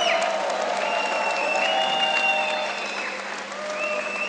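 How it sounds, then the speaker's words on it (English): Spectators at a judo -100kg final between Mongolia and Korea applaud in a steady, dense wash of clapping with faint crowd murmur and cheering, sustained and fairly distant. "And a hand as well from Naidan Tufshinbao, clapping his teammate."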